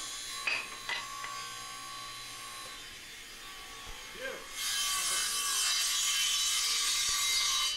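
A table saw cuts through wood for a dance pad build, with a bright, continuous rasping whine rising after a few quiet seconds and holding steady to the end, preceded by a few short knocks.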